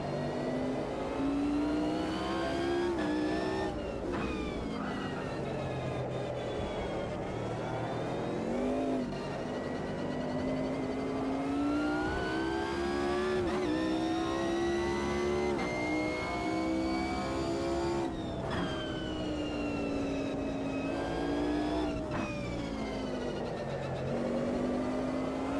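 Race cars in the Automobilista 2 sim racing game roar continuously at close range, engine pitch rising and falling through repeated upshifts and revving as a rival McLaren runs alongside, with no talk over it.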